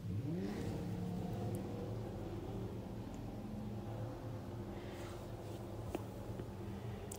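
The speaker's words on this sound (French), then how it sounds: "on fait un petit tour sous la pluie. Ici, avec un Urus, une Aventador." Lamborghini Urus and Aventador cruising in the rain, a steady low engine drone with a mild rev rising early on, held at moderate distance under wet road hiss.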